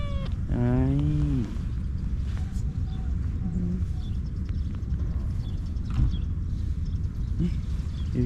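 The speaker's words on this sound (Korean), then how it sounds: "고양이들이 진짜 많아요." A cat in an old rural village lets out one clear, bending meow at the start, followed by quiet outdoor ambience with faint scattered knocks and distant sounds.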